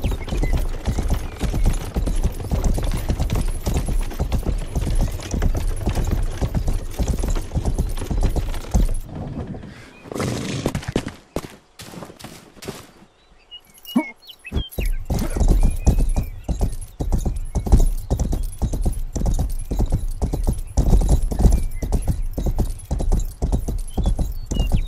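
Horse hooves clip-clopping in the medieval game Rustler, a dense rapid stream of clattering steps that stops briefly midway, then resumes steadily and loud.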